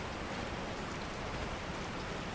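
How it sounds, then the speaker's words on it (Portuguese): Steady rain in the video game Resident Evil 4 hisses evenly and continuously, a dense soft wash of falling drops with no voices. "Chuva em jogo, não sei porquê, mas eu curto pra caraca."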